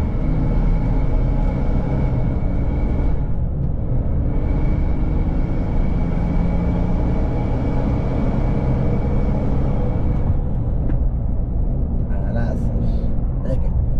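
A Mercedes X-Class V6 turbo pickup with a Stage 2 tune and downpipe cruising fast on a German road, a loud continuous low engine and road rumble from inside the cabin, with people talking over it.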